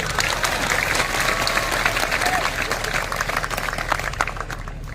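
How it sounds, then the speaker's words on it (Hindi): Audience applause at a political rally in India fills the whole stretch, a steady dense wash of many hands clapping at once that holds fairly loud throughout with only a slight easing toward the end. "तालियां बजाओ मोदी जी"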